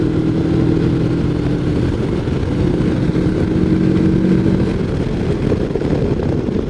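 A CFMOTO 700 MT mid-size trail motorcycle accelerating on the road, its engine droning steadily and loudly with a rising hum and wind noise throughout, no talking over it.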